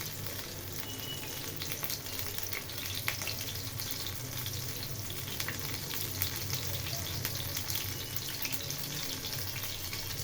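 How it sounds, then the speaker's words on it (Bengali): Battered fish pieces fry in hot oil with a steady, dense sizzle and crackle throughout, close and fairly loud, with faint clinks and watery hiss mixed in. "আর এখন এগুলোকে আমি এই ব্যাটারের মধ্যে ডুবিয়ে দিয়ে দিব গরম তেলের মধ্যে।"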